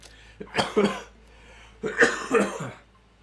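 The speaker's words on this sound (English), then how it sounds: "while I'm coughing" Two close, harsh coughing fits, each a pair of rough bursts, separated by a short pause.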